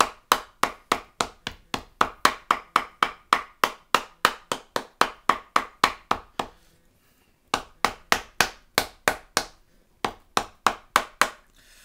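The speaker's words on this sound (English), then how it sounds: "now I'm going to start hitting it with the shoemaking cobbler's hammer" A French cobbler's hammer strikes wet leather stretched over a shoe last in quick, even blows, a long run of sharp taps, a brief pause, then two shorter bursts, close and crisp.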